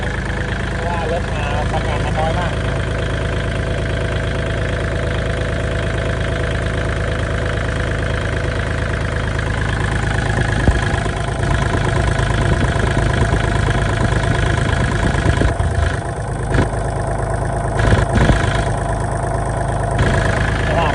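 A Kubota L3608 tractor engine idles steadily and loudly at close range throughout, a constant even drone with slight roughness, with someone talking over it at times.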